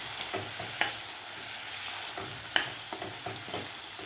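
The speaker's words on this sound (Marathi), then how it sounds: "आता वाटणसुद्धा आपल्याला 2 मिनटं व्यवस्थित परतून घ्यायचं आहे." Ground fresh masala paste sizzles in a pan while a spoon stirs it, giving a steady close fry with a couple of sharper scrapes, no voices.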